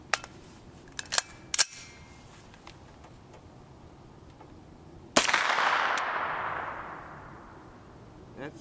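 A single 9x19mm 135-grain FMJ tracer round fired from a CMMG Resolute 200 series carbine with a 16-inch barrel outdoors: a sharp, loud crack followed by a long, fading rolling echo, preceded by a few faint mechanical clicks.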